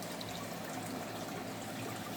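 Water from a fish pond pump flowing through a creek, a steady continuous trickling and gurgling stream, close and even throughout.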